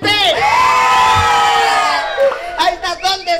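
A crowd at a clown show in Tampico, Mexico shouts and cheers loudly in one long sustained roar, with children's high voices mixed in, before breaking into scattered whoops and yells.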